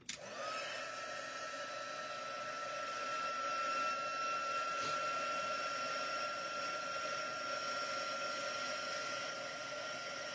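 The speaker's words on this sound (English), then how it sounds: "Now I've got to run my heat gun" A heat gun used for heat embossing runs with a steady, loud, hair-dryer-like whoosh and a constant high whine. It starts abruptly and keeps going unbroken for the whole stretch, with no talking.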